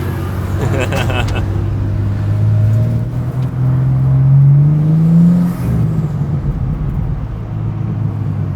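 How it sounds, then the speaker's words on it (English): A car engine revs near a late-night car meet, a steady loud drone rising and falling through several throttle swells, then settling back to idle. "And there's JD revving in the back."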